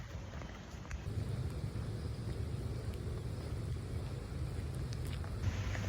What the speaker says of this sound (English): It's raining or sprinkling, but gotta walk every day.